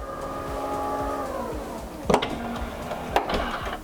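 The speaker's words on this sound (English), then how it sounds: "the new boot lid close button, which I can show you working now." Powered electric tailgate on a 2022 Volkswagen T-Roc closing at the press of a button: a steady motor whine that winds down over about two seconds, then two sharp latching clunks close by.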